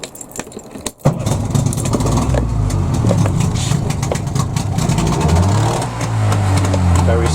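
A two-stroke outboard boat engine on the Swamp Duck, sitting unused for weeks and run with the choke, kicks into life after a short pause and runs roughly nearby, its revs rising and dipping unevenly.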